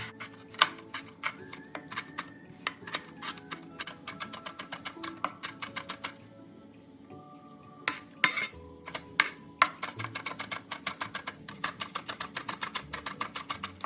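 A knife chops an onion rapidly on a cutting board in fast, even taps, pausing briefly midway before resuming the quick chopping.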